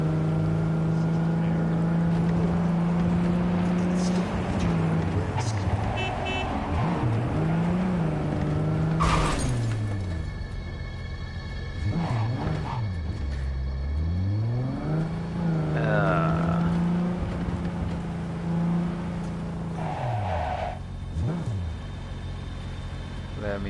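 A car engine in the game Cyberpunk 2077 drones, revs and rises and falls in pitch through repeated acceleration, with tire squeals and thumps from clumsy driving, while a player talks over it.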